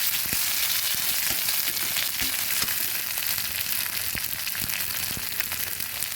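Onion and ginger frying in a pan for a Bengali boal fish curry, giving a steady, dense sizzle that fills the whole stretch, with faint stirring clicks scattered through it.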